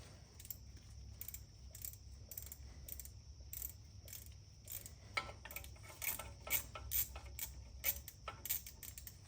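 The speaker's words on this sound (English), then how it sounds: "I'm gonna use a 8mm socket to pop off this ABS bolt." An 8mm socket ratchet backs out an ABS bolt on a Ford F-series truck, a steady run of quick metallic pawl clicks in bursts, close up and alone.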